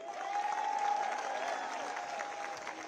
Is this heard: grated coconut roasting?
no